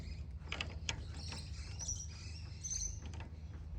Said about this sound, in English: I've got the pinch bar on the flywheel, and this is going backwards